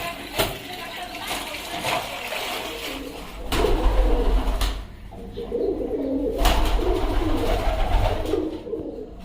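Shirazi pigeons coo steadily inside a breeding loft with wooden nest boxes, their low repeated calls mixed with background noise and a few sharp knocks.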